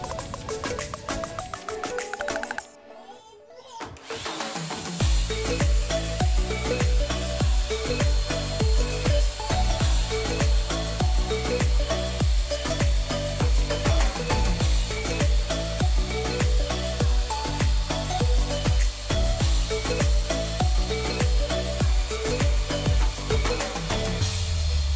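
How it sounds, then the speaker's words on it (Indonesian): A Maxhealth vacuum cleaner running as a dryer, blowing hot air from its rear outlet: after a brief quieter start, a steady loud whirring motor hum with an airy hiss, close and alone. "kita memanfaatkan head dryer vacuum cleaner yang ada di belakang, karena hembusan anginnya itu sangatlah panas"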